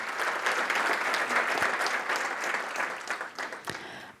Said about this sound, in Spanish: Demos un aplauso de felicitación a los nuevos doctores del área de Derecho, Ciencias Sociales y Humanas